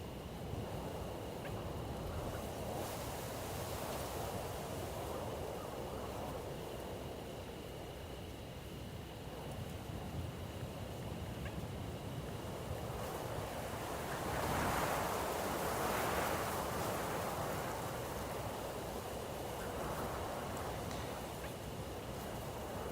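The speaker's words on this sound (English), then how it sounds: "It's just a little windy." Wind blows outdoors at night in a constant, faint, breathy rush against the microphone, swelling into a stronger gust partway through before settling back.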